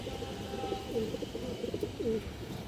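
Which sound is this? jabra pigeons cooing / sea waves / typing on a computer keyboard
jabra pigeons cooing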